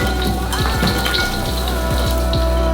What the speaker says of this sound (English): Pour our popcorn into another bowl.